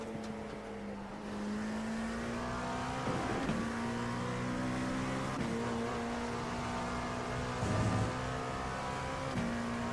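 Formula car engine in a racing video game, a steady high drone with pitch steps as gears shift, playing continuously at moderate level with no talk.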